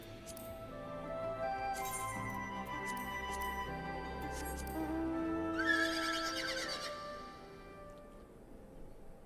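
A horse-dragon mount in Final Fantasy XIV lets out a drawn-out neigh over layered game music and chiming effects, rising to a brighter peak near the middle before fading away.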